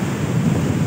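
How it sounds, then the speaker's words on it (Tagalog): Strong sea waves break on a beach during an approaching storm, giving a loud, close, continuous rumbling roar with wind buffeting the microphone, and no voices. "Malakas ang alon. Alon dito sa tabing dagat."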